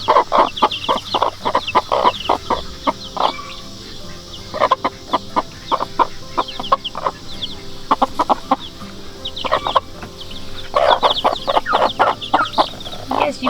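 Several hens cluck and chatter continuously, overlapping in quick, busy bursts, with the higher peeping of chicks mixed in, loud and close.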